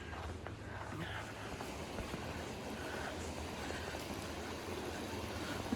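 A small creek in a snowy state park flows with a steady, soft wash of water, faint and continuous, mixed with light wind noise outdoors.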